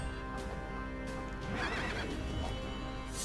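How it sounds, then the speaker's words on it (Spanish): A horse neighs and its hooves clip-clop during battle in the Child of Light video game, with a loud whinny over a continuous layered game-music bed. "¡Uy! El caballo también ha esquivado."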